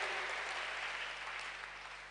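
A church congregation applauds during a worship service, a soft, steady patter of many hands that fades slightly over a couple of seconds.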